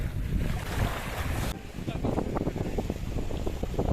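Indian Ocean waves wash in at Dhanushkodi, Rameswaram, with a steady broadband roar, overlaid by gusty wind buffeting the microphone, close and continuous.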